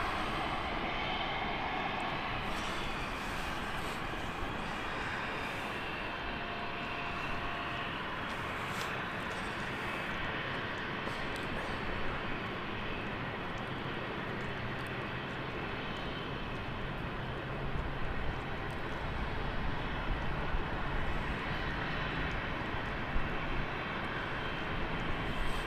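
A BA CityFlyer jet's engines roar at a steady, moderate level from a stand at London City Airport, a broad continuous wash of sound with no voices heard.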